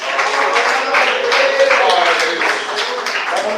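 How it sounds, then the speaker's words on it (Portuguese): A crowd at a church service claps hands together in a dense, continuous patter, with voices mixed in underneath. "Bate mais palmas."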